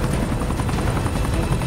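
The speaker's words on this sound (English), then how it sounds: "this is how we're heading right now with the helicopter" A helicopter in the battle royale video game Super People drones loudly and continuously, its rotor thrum steady and close throughout with no pauses.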